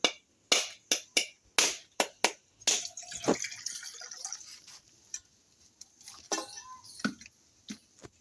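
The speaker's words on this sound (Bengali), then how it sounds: "এবার আমি এই নারকেলটা ফাটিয়ে নিচ্ছি, এই নারকেলটা কুড়ে নেব।" A coconut cracked open with a rapid series of sharp, hard knocks, followed by softer splashing and dripping of its water, all close and alone.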